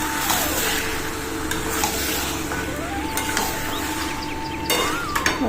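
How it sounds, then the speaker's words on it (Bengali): Fried chicken is added to cooked-down meat masala in a pan and stirred, with close scraping and clatter over a steady sizzle; a faint tonal whine runs underneath. "মাংসের মশলাটা কষানো হয়ে গেছে এবার আমি মাংসটা দিয়ে দেবো ফ্রাইড করা চিকেনটা দিয়ে দিলাম"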